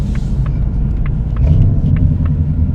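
A supercharged Ford Mustang Shelby Super Snake rumbles with a deep, steady engine note, close and loud, with faint rhythmic ticking above the low growl.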